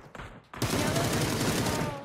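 Rapid bursts of gunfire in PUBG, a single sharp shot followed by a sustained loud volley of automatic fire, with a player's voice talking over it.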